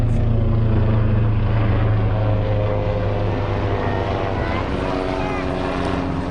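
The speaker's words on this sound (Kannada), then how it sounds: "ಹೆಲಿಕಾಪ್ಟರ್ ತಿರ್ಗೊಂದುಂಡು" A helicopter flies around over Abu Dhabi, giving a loud, steady droning hum of rotor and engine that holds without a break for the whole stretch.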